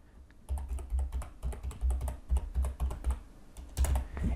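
Typing on a computer keyboard in a quiet room: a steady run of quick, close key clicks with a few brief pauses, no voices.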